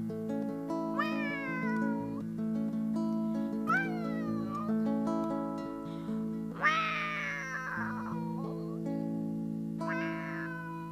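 A singer at a live concert in São João da Boa Vista imitates cat meows with her voice, several rising and falling meow-like wails over sustained instrumental accompaniment.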